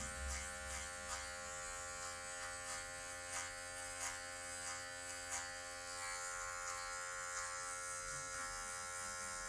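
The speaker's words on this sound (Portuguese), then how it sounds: "você já vem usando a quina da maquininha, ó, a ponta da máquina" Steady electric buzz of hair clippers running continuously while trimming hair with the blade corner, with faint rhythmic clicks of the blade against the scalp, close and alone.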